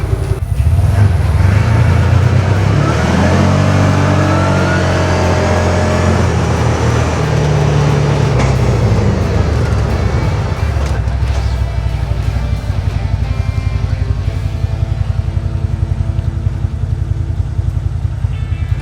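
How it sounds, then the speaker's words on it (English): A CFMOTO UForce 1000XL side-by-side accelerates to 30 mph and then brakes hard, its engine loud and close, rising in pitch before dropping back to a steady lower drone. "I'm just gonna do an extreme brake at 30 miles an hour, get up to 30 miles an hour and then hit the brakes"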